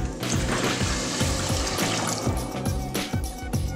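Water poured into a pan of sugar while making toffee for toffee apples, a continuous splashing, gurgling pour heard close up and fairly loud, with no talk.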